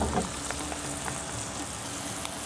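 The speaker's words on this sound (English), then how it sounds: "I'll tilt the pan on one side so that I can give it a nice deep frying effect." Onions sizzle in hot oil, a steady crackling hiss filling the pan with small pops throughout.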